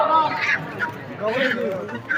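Chickens at a live poultry sale in a busy market give rough honking clucks and squawks in bursts, close and loud, with people talking in the background.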